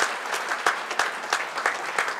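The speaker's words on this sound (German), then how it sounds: "Einen großen Applaus für ihn, Herr Bürgermeister." Guests at a charity gala in Frankfurt applaud the mayor. The clapping is moderately loud and even, with sharper individual claps popping out at a regular pulse.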